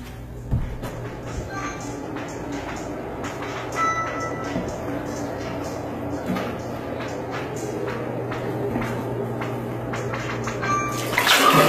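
Shower water runs steadily into a bathtub, a continuous hiss that stays constant for over ten seconds, with a few faint clicks and knocks.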